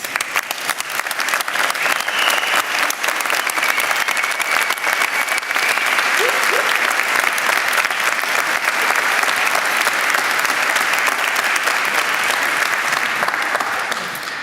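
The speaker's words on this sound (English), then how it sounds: "A well-deserved round of applause." A graduation ceremony audience gives a long, sustained round of applause, dense and even, with a faint cheer or whistle carrying through it.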